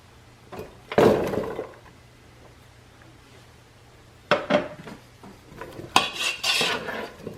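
Onion and cubed potatoes stirred in a pot with butter for a chowder, giving a few clattering scrapes and knocks of a utensil against the pot in separate bursts with quiet gaps between.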